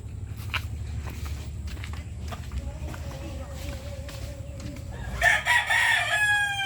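Hatch Grey gamecock rooster clucking softly while pecking at feed, then letting out a loud, close crow near the end, with scratching footsteps and a person talking in the background.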